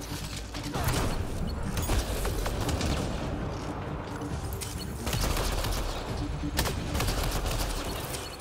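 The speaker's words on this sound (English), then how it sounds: "You can almost feel the bullets whizzing by." Sustained gunfire rattles through a Mass Effect Andromeda firefight, a loud, dense wash of rapid shots and mechanical clatter with bursts swelling and easing over several seconds.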